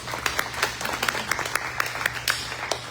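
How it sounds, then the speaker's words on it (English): A crowd at a City of Katy Ward A candidates forum gives a steady round of applause, a dense patter of many hands clapping throughout. "It's a round of applause."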